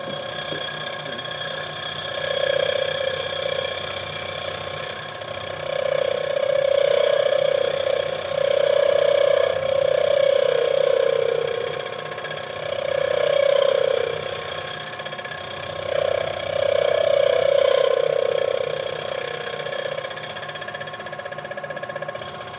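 A metal lathe makes a final cutting pass on a sleeve, giving a steady, close mechanical hum with a rising and falling cutting tone that swells in long waves.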